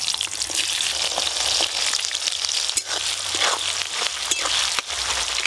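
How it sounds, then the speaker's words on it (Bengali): Chopped onions fry steadily in hot oil in a pan, a dense, continuous sizzle with crackling pops running throughout, close and fairly loud, with no voices. "পেঁয়াজ তো একটু ভাজা ভাজা হয়েছে"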